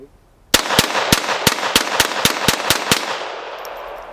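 Rapid handgun shots during home defense training, about ten sharp loud cracks fired in a quick, fairly even rhythm after a short quiet start, with ringing tail fading at the end.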